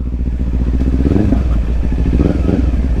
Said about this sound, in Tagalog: kung gaano kalakas ang motor na Kawasaki 400